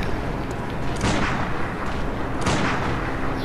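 Gunshots in the video game Bloodborne during a first boss fight, two loud broadband blasts about a second and a half apart over a dense, noisy game backdrop.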